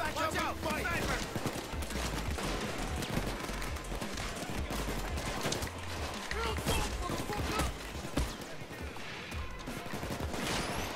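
Video game sniper gunfire, mixed with other weapons, crackles in rapid, dense volleys of shots. The shooting runs continuously and fairly loud, with someone talking over it at times.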